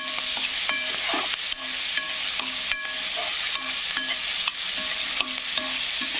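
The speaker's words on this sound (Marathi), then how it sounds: "तर छान कांदा पण फ्राय होत आहे आणि टमाटर पण फ्राय होत आहे." Onion and tomato fry in a pan for a capsicum vegetable dish, with a steady close sizzle broken by repeated stirring clicks and scrapes of a spoon against the pan, no voices.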